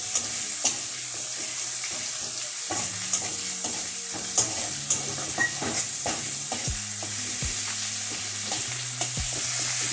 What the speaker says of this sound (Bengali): এই যে টমেটো ভালো করে ভাজা হয়ে গেছে।